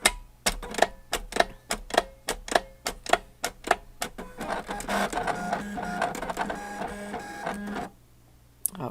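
An electronic cutting machine works through a sheet of cardstock with a run of sharp, rapid clicks and whirs, then a denser mechanical buzz before stopping abruptly, close and moderately loud with no talk.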